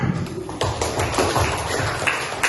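Classroom applause for a presenting student group, a dense patter of many hands clapping at once, close and steady through the whole stretch with no talking.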